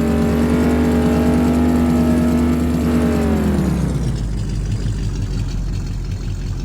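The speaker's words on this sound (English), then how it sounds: "Sounds like a hot rod." A classic Chevy hot rod pickup engine in Farming Simulator 15 revs up loudly to a steady high roar, then the pitch drops and it settles into a rougher, lower rumble.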